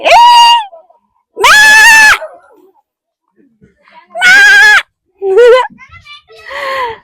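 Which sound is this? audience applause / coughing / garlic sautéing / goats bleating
goats bleating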